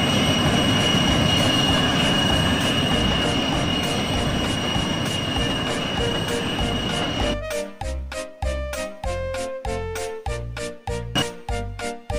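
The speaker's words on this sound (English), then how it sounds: "Vulcan made his way with his very prominent passenger train" A steam engine pulls a passenger train past with a loud, steady rumble. It then shifts into a rhythmic series of clacking pulses that grow sharper toward the end.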